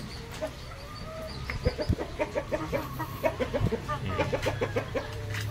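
Dongtao, Dong Tao Giant and Tanaka breed chickens clucking in a coop, a steady run of short close clucks with a few louder bursts over a low background murmur.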